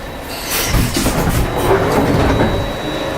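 A Glasgow Subway train runs along the track, its wheels clattering and squealing close by in a loud, steady rumble with no talk over it.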